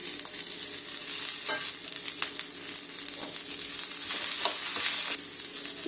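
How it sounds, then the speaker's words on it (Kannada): Chopped coriander leaves and cumin fry in a pan for a green masala, making a continuous close sizzle broken by several brief scraping stirs of a spoon against the pan. "ಕೊತ್ತಂಬರಿ ಸೊಪ್ಪು ಒಂದು ಇಡಿಯಷ್ಟು ತೊಳೆದು ಕಟ್ ಮಾಡಿ ಅದನ್ನು ಫ್ರೈ ಮಾಡ್ಕೊತಾ ಇದ್ದೀನಿ"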